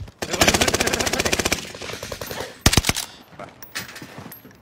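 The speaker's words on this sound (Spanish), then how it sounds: "Están disparando." Video game gunfire comes first as a long, rapid automatic burst, then a few heavier close shots and scattered quieter fire on a new map during a live stream.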